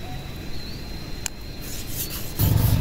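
A large knife is sharpened on a whetstone, giving a steady, close dry rasp of steel rubbing stone that grows louder and coarser near the end.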